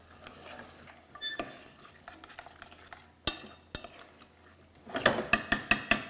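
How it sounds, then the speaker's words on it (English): A spoon stirs chopped rutabaga, carrots and other vegetables into tomato minestrone in a pot, making soft scraping and scattered clinks, with a few sharp knocks on the rim and a rapid run of metallic taps at the end. "Give that a quick stir."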